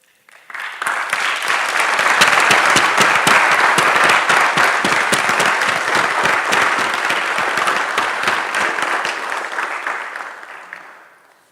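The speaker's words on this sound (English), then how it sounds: "let us give them a round of applause" A graduation audience at a December 2020 science ceremony applauds the supervisors. The loud, dense clapping swells quickly from silence, holds strong for about nine seconds, then tapers away.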